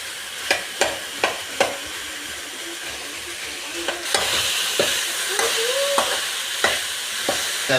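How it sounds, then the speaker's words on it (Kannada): Food frying in a pan, making a steady loud sizzle while a spoon scrapes and taps against the pan in a quick run of knocks, then keeps stirring more slowly, heard up close. "ಫ್ರೈ ಆಯಿತು."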